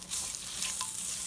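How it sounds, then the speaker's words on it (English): Bitter gourd is stirred and sizzles in a stainless steel pan, a steady close frying hiss with soft scraping movements throughout and no talking. "because we're just giving it a stir"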